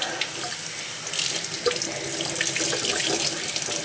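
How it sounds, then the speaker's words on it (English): Water runs from a tap into a sink, wetting a cloth, a steady splashing stream that grows a little louder partway through. "You get your cloth wet, bring all the water out that you possibly can."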